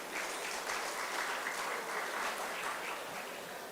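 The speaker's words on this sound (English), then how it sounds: "The audience, can you please clap if you are not tired enough?" At a university convocation, a large seated audience applauds in a steady, even wash of clapping that holds at a moderate level throughout without any voices.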